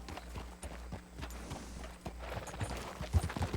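A horse in the video game Red Dead Redemption II walks on firm ground, its hooves clip-clopping in an uneven rhythm, fairly close and moderately loud, with game ambience behind.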